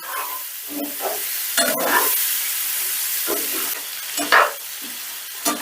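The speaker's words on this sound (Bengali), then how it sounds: "পনিরগুলো আর মশলার সাথে একটু নাড়াচাড়া করে নিচ্ছি" Paneer cubes being stirred with spices in a frying pan, with a steady loud sizzle and hiss and repeated scraping strokes of the spoon against the pan, close and clear.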